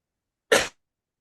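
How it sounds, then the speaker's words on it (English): A single short, sharp cough bursts out from a person nearby, with silence before and after it. "I do have a cough, so if I cough accidentally, excuse me."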